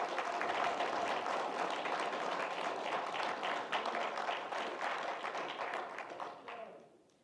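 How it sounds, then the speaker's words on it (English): A meeting audience at a Nation of Islam gathering claps for student ministers: dense, steady, close applause that fills the space, then tapers and fades out toward the end. "Let's give them a round of applause."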